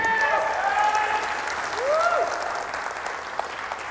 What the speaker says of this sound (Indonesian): hargai diri Anda dengan aplaus yang meriah buat diri Anda semua